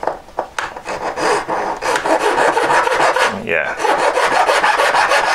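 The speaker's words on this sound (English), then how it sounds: "Okay, filing." A hard brass rod is hand filed with steady, close, rasping back-and-forth strokes after a few light taps, and a voice briefly speaks early on.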